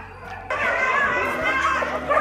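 In a public dog shelter, dogs bark and whimper in a dense, noisy din with overlapping yelps close by, while a voice talks over them.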